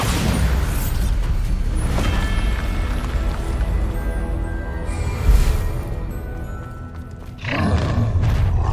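A Bombarda spell explosion in Hogwarts Legacy lands as a deep boom and thud partway through, over a loud, dense bed of rumbling combat sounds and music, with another heavy burst near the end.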